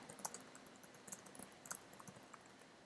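Quiet typing on a computer keyboard while editing text in Vim, a rapid irregular run of light key clicks close to the microphone, with no voices.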